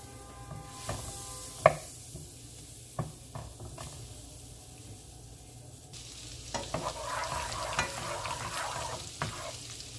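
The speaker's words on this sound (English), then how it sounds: "So now I'm going to go ahead and add a stick of butter. Just going to allow my butter to melt." A stick of butter melts in a hot pan for a Cajun shrimp dish, giving a soft, steady sizzle with a few light clinks and taps of a utensil against the pan.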